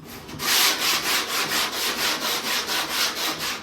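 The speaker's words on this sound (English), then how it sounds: "Just letting the sanding block do its job, glide over the high spots." A sanding block rubs back and forth over body filler in steady, even strokes, a close rhythmic scratchy hiss repeating about every third of a second.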